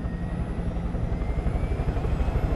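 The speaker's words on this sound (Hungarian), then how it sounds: "hogy végre helikopterrel tudjunk menni." A helicopter flies in the video game Far Cry 5. Its rotor and engine give a steady, loud, continuous drone that pulses evenly, with no voices.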